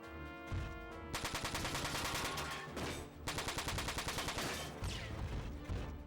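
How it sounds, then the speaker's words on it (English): Machine gun fire in the video game Front Mission 4: dense, rapid bursts of automatic shots at a loud, steady level, broken by brief pauses, with no talking. "These guys have no armor, so I might as well use the machine gun"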